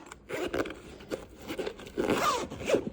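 Scissors cutting through denim fabric for a flounce, giving repeated crunchy snips and scraping blade strokes at close range, steady over a few seconds with no talk.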